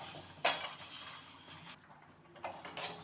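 Utensil clinks and scraping against a pan as chutney ingredients dry-roast, with a sharp clink near the start and another near the end over a low, steady background.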